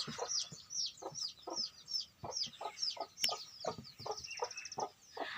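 Chickens cluck and chatter in a steady stream of short calls, with a few higher squawks mixed in, fairly close by.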